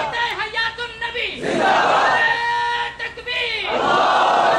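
A crowd at a religious gathering shouts a takbir slogan in unison, answering a single leader's call with a loud, sustained roar of many voices that swells, dips briefly, and rises again.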